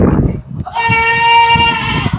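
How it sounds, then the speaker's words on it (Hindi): A very heavy goat gives one loud, nasal bleat at close range, held for about a second, with muffled handling and background noise before and after. "बहुत बहुत वजनी बकरा ये।"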